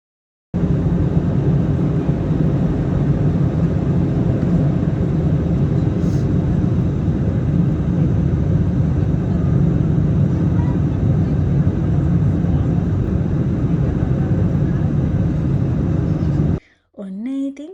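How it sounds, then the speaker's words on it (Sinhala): Steady loud cabin roar of an airliner descending to land on Fuerteventura island, a continuous broadband drone that holds unchanged for about sixteen seconds before cutting off abruptly. "අපේ ෆ්ලයිට් එක ෆෘත්තවෙන්තුරා අයිලන්ඩ් එකට ලෑන්ඩ් කරන්නයි මේ ලෑස්ති වෙන්නේ"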